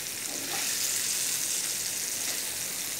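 Pieces of spiny gourd (kakrol) fry in a pan, giving a steady, close sizzle and crackle of hot oil that holds evenly throughout.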